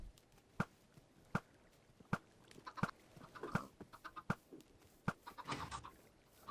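Chickens cluck in the Minecraft video game, a quiet run of short, regularly spaced clucks with softer scattered bird noises between them and no talk.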